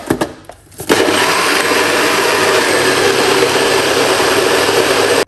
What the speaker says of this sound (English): Let's blend up this and close down the show.